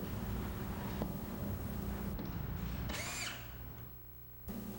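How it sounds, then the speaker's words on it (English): A power drill drives screws into wall anchors while a liquid dispenser is being mounted, with a steady whirring motor that holds for several seconds, briefly rises in pitch, then drops and cuts off near the end. No voices are heard. "Tighten screws in their anchors."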